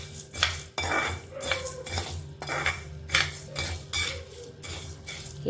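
Coriander seeds and cumin seeds are dry roasted in a pan for a chilli powder mix, with repeated scraping and stirring strokes of a metal spoon against the pan at a steady rhythm and no talking.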